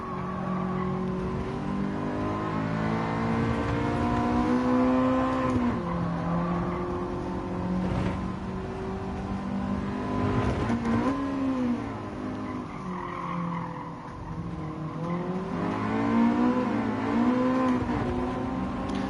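Toyota Prius racing in Gran Turismo 7, its engine droning steadily with rising and falling revs through corners and occasional tire squeal, loud and continuous with no talk.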